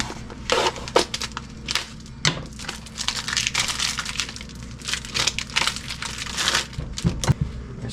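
A knife slicing pre-cooked sausage diagonally on a board, giving a run of crisp, close chopping clicks and crunches at an irregular pace, loud and with no talk over it.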